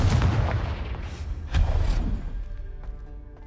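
A Confringo fire spell cast in Hogwarts Legacy, a sudden fiery blast that booms and rumbles, followed by a second burst and a fading crackling tail, loud and near.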